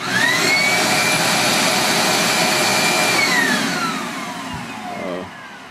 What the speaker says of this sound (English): I'm getting ready to turn on the shop vac